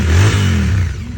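A 2023 Royal Enfield Interceptor motorcycle engine revs loudly up close, a deep throaty burst that surges and then eases down, with no voices.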